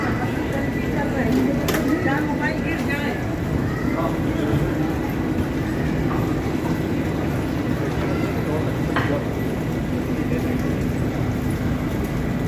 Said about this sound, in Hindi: हमारी ट्रेन इस समय कानपुर सेंटर में पहुंच चुकी है